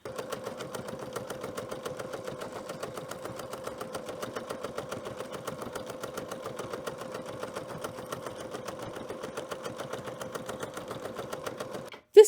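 A sewing machine runs a decorative stitch 137 on wool appliqué, a steady rapid needle clatter continuing evenly for about twelve seconds before stopping with a brief click.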